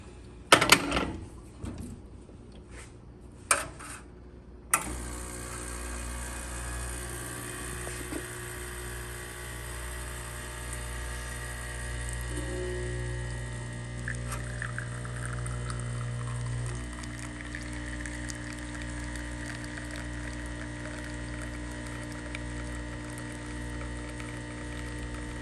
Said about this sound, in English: Go ahead and pull a shot.